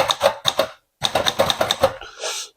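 Keys strike on a Remington Envoy III manual typewriter in quick, close, crisp clatters, two short bursts, a brief pause, then a longer run of keystrokes, ending in a softer mechanical rustle.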